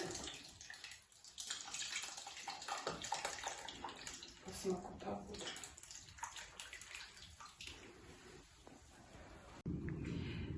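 Blood is poured from a bowl into a cast-iron pot of black borscht in a village kitchen, a soft continuous liquid pouring and splashing, close but quiet, with people talking faintly.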